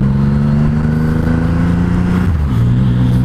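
A Triumph Rocket 3 motorcycle out on a ride. Its big engine hums in a loud, steady low drone that stays close and constant, and the pitch drops briefly near the end with no talk over it.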